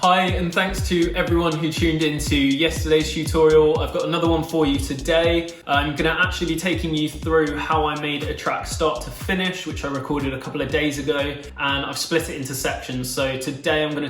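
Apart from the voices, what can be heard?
No distinct noise like a dog, phone or traffic.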